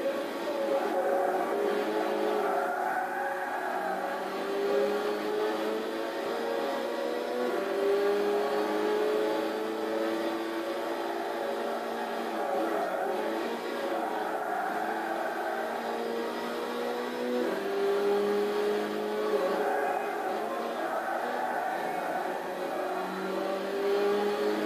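A race car in Gran Turismo 6 laps a circuit, its engine a continuous loud drone rising and falling in pitch as it accelerates and shifts, steady throughout with no pauses.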